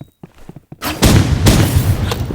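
A grenade blast and a burst of gunfire in the online shooter game Rivals: a few soft clicks, then a heavy boom followed by loud, rapid overlapping shots that stay close and dense to the end.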